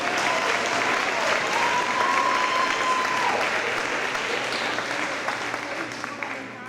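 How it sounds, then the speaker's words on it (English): An awards-night audience at a senior class ceremony claps steadily throughout, a dense wash of applause that tapers slightly toward the end, with a faint tone in the background. "Clap please."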